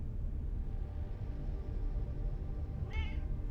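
A house cat gives one short meow near the end, clear but moderate, over a steady low rumbling background.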